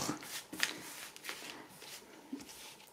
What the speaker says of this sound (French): je vais prendre 3 cartes pour l'amour